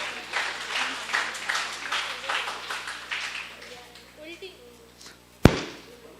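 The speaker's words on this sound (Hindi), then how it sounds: "इनके लिए भी बजाइए तालियां।" An Urdu bait bazi poetry competition at a madrasa in Aurangabad breaks into brief applause from the audience, claps mixed with talk and a sharp bang near the end.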